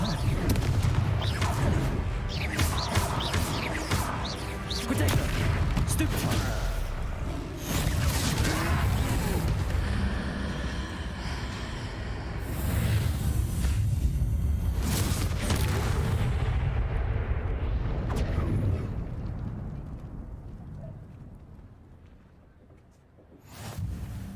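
Confringo blasting spells exploding during a troll fight in Hogwarts Legacy, a dense run of loud booms and blasts amid battle noise and voices, easing off and fading near the end.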